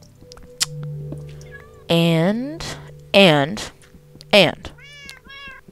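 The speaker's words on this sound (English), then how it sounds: "I push this cat out of the way because he is in my way." A cat in the video game Minecraft meows three times, each a bright, rising-and-falling call spaced about a second apart, with a voice talking quietly and game music underneath.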